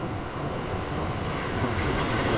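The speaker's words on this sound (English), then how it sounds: "there's constantly a train coming by" Loud, continuous rumble of a train passing close by in Kyoto, Japan, with a dense rolling roar and faint rail clatter.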